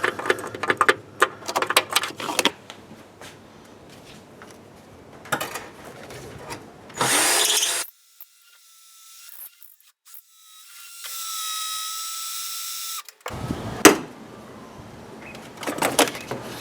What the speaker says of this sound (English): Just drilling some pilot holes.